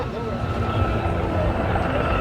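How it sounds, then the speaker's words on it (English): A helicopter passes over a classic car show and swap meet near an airport, its steady rotor drone loud and continuous, with crowd chatter underneath. "Now we got a helicopter."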